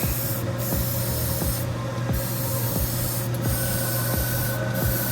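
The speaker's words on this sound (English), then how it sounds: "you spray into the water in the back" A continuous hiss of spray paint in a water-wash spray booth over a steady mechanical hum, with faint rhythmic ticking in the background, fairly loud and constant throughout.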